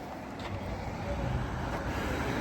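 A car driving along the road toward Brisbane, heard from inside as a steady, even rumble of engine and tyre noise that holds for the whole stretch.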